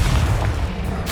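A Confringo spell in the Hogwarts Legacy video game bursts as a short, deep boom with a rumbling tail, loud and close, alone without talk.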